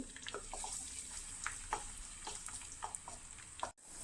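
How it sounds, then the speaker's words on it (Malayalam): Garlic fries in coconut oil over a low flame, a soft, steady sizzle with light crackles and occasional stirring clicks, heard up close and quiet before a short drop out near the end. "നൂറ്റമ്പത് ഗ്രാം വെളിച്ചെണ്ണ ലോ ഫ്ലെയിമിലേക്ക് ഇട്ടിട്ട് നമുക്ക് വെളുത്തുള്ളി ചേർത്ത് കൊടുക്കാം"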